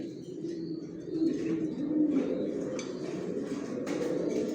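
Racing pigeons in a loft coo in low, rolling murmurs that run continuously, with faint chirps and light clattering mixed in, soft and close by.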